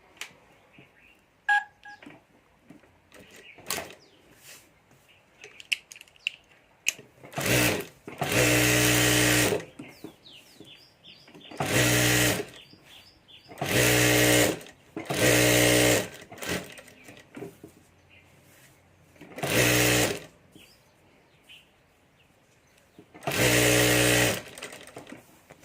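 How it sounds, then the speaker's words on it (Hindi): A sewing machine stitching fabric onto a rubber sheet for a handmade purse runs in about seven loud, rapid whirring bursts of roughly one to two seconds each, with quiet pauses and light handling noises between them and no talking. "और अब यहाँ ऊपर हमें चारों तरफ सिलाई कर देनी है।"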